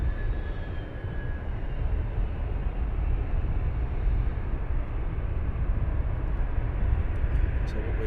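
A jet aircraft taxis along the runway at Luton Airport, giving a loud, steady engine rumble and roar throughout, with a faint whine at the start.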